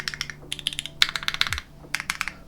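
Rapid keystrokes on a keyboard fitted with overlubed Gateron Ink V1 switches, a steady run of muted, soft clacks with a brief pause midway, close and alone.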